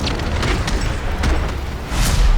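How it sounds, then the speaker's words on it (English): A Boomschreier zombie explodes on contact in Call of Duty: Vanguard Zombies, heard as a loud, continuous rumbling boom with crackling bursts that swells near the end, with no talk. "These are zombies that will run real quick and explode in contact"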